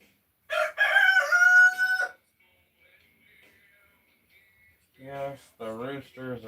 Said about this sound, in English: Yes, the roosters are still here.